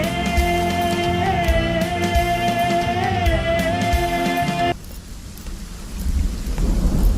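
Thunderstorm with heavy rain on surfaces, a steady wash of falling rain that rises alone after tonal music abruptly cuts off midway, with a deep rumble swelling toward the end.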